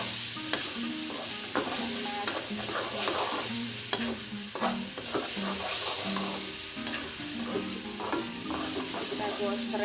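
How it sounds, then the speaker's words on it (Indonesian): Ground spice paste stir-fried in a pan for beef bone soup, a steady sizzle with frequent scraping stirs of a utensil against the pan, close and continuous throughout. "Kita gosreng sampai harum ya bumbunya."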